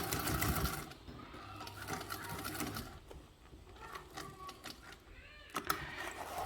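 A sewing machine runs in short bursts as it stitches fabric, its rapid mechanical whir close and moderately quiet, broken by pauses and light handling noises.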